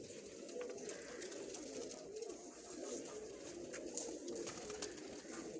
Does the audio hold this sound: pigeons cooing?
yes